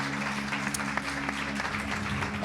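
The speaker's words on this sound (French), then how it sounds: "je vous propose, c'est bien sûr de les applaudir pour les remercier d'être là" A festival crowd at a concert at Vieilles Charrues 2014 applauds the band in a steady, dense wash of clapping, moderately distant, over a low constant hum.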